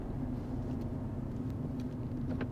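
Car engine on a driving lesson, held at a steady low drone inside the cabin as the learner eases off the accelerator and brakes gently, with faint clicks and rustles over the hum.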